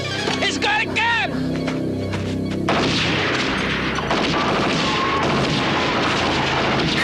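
Gunfire in a movie trailer: a loud burst of shots and booms crashing in after a few seconds of dramatic voices and music, then continuing as a dense, noisy wash under the soundtrack.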